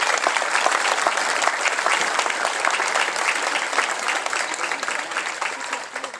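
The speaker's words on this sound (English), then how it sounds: "So please give these officers a nice round of applause." Outdoor crowd applause at a Memorial Day parade honoring fire department and local police officers in Blawnox, Pennsylvania, a dense steady wash of many hands clapping that holds for several seconds and eases slightly at the end.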